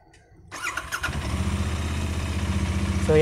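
A Royal Enfield Interceptor 650 twin-cylinder motorcycle engine cranks and catches, then settles into a steady, throbbing idle with a lumpy, pulsing beat, close and fairly loud.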